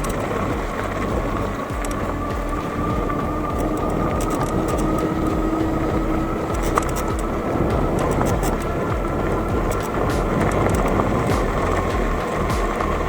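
Shengmilo MX02s electric mountain bike ridden at full throttle without pedaling: steady motor whine over broad rolling tire and wind rumble, constant and loud throughout with no speech.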